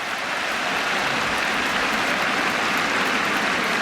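A cricket crowd at an England v India Test match in 2018 applauds a boundary, producing a dense, steady wash of clapping that holds at an even level for the whole stretch.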